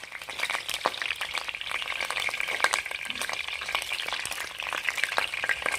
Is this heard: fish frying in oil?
yes